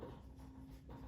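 A board is written on during an accounting lesson, a faint, brief scratching of strokes heard close and alone, with no voices.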